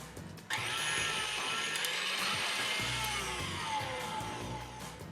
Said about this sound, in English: You can see now that the whisk is making an impression in the egg whites.